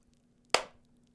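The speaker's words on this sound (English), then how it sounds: "I'm going to hit the clap" One sharp hand clap to sync podcast audio, a single close, crisp transient with a short decaying tail against quiet room tone.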